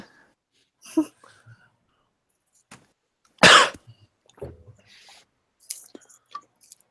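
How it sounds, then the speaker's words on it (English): A sharp, harsh cough bursts out once mid-clip, loud and close, surrounded by quiet breaths and a few soft murmurs and sips. "I'll cough immediately after a shot."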